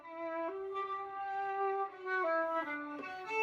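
A bowed string instrument played with no rosin on the bow gives a thin, breathy, unfocused tone, sustaining a few held notes with pitch changes, heard alone with no talking.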